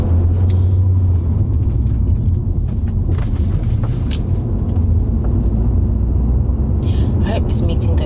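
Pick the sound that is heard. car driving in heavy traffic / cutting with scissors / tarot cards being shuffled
car driving in heavy traffic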